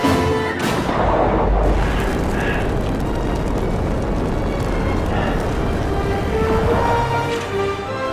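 Sustained loud energy-weapon blasts and booms from a Star Trek video game as phasers shoot out vents, a dense continuous barrage with rumbling low end over about eight seconds.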